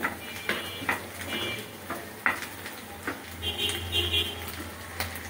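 Macaroni cooks with an egg in a pan, giving a soft sizzle under repeated scraping and knocking of a spoon against the metal, close by and irregular, with faint background noise.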